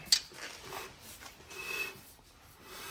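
Brake shoes rubbing and scraping inside the drum on a Subaru Forester after the adjuster spreads them, a soft intermittent rasping that rises and falls in a few near strokes, quiet and alone.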